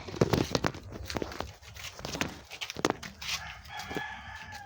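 Chickens cluck and squawk nearby in a busy outdoor mix, with scattered bursts of noise and activity around them.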